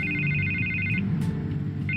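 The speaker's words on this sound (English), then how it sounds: "I can't get the phone to stop ringing." Telephone ringing in Batman: The Telltale Series, a steady electronic ring pulsing for about a second, pausing, then starting again over a dense low background of game ambience and music.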